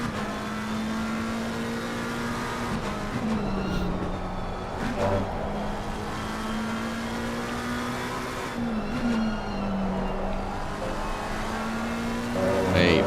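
McLaren 720S GT race car carrying ballast, heard onboard at Brands Hatch in a racing video game: a steady, loud engine drone holding pitch with brief lifts and shifts around gear changes, continuous throughout.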